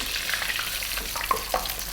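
Steady sizzling of thin battered fish shallow-frying in a pan, British chip-shop style batter, with a couple of sharper spatters and pops partway through; close and continuous, no talking.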